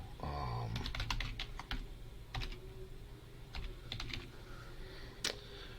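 Fingers typing an email address on a computer keyboard, bursts of quick close key clicks separated by short pauses over a low background hum.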